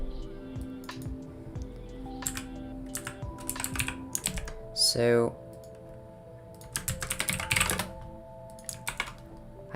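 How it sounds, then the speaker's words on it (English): Rapid clicky typing on a computer keyboard comes in uneven bursts, close and fairly loud, while someone says a word and a brief tonal sound cuts in midway. "keyboard noises"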